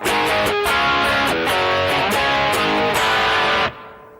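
Loud overdriven electric guitar plays the second riff of a song, thick chugging power chords with quick choppy changes, close and steady, cutting off cleanly at the end.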